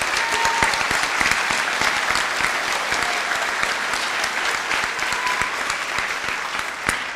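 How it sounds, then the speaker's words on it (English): Crowd at a National Honor Society assembly applauding student speakers, a full, steady roar of many hands clapping nearby, loud and continuous for several seconds with no talking. "Let's give them another round of applause."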